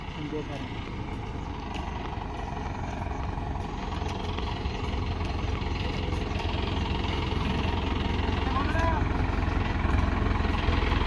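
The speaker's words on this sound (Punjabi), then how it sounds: "ਇਹ ਕਿਹੜਾ ਟਰੈਕਟਰ ਇੰਡੋ ਫਾਰਮ" Low, steady rumble of an Indo Farm tractor engine idling nearby, continuous and unbroken, with faint background voices and an occasional light rattle.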